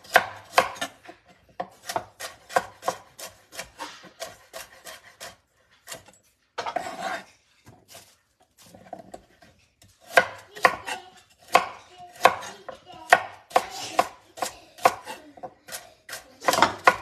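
Rapid bursts of knife strokes on a cutting board as food is minced, sharp rhythmic chopping in quick runs with short pauses, close and clear, no talking.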